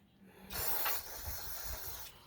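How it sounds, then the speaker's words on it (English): Aerosol cleaner sprayed into a lawn mower carburetor float bowl, a steady close hiss lasting about a second and a half after a brief quiet start. "Let's spray this float bowl out quick."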